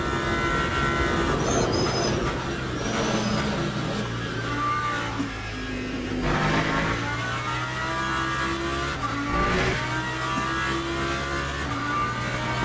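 Racing cars in Le Mans Ultimate, a McLaren and a Lamborghini battling at night, engines roaring loudly and continuously down a straight with rising and falling revs and gear changes, no talking.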